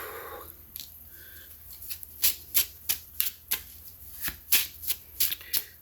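Playing cards being shuffled at close range, a run of crisp riffling bursts in quick rhythm that grows louder and more regular partway through, with no talking.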